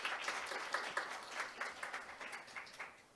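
A conference hall audience at an opening ceremony claps in applause, a fairly quiet, even patter of many hands with slight pulses, heard alone without voices.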